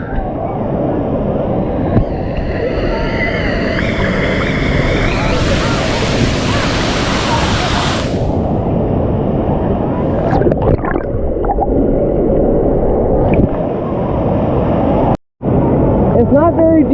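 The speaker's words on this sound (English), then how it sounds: "It's not very deep in this wave pool, but it does have a lot of waves" Waves roll through a shallow wave pool at Volcano Bay water park, a broad wash of churning water and surf noise lasting the whole span, loud and close, with a short dropout near the end.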